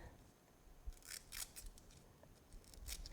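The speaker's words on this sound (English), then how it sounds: "I'm going to trim these edges off here" Scissors snip the edges off holographic vinyl in a series of sharp close cuts, several crisp quiet clips in irregular rhythm.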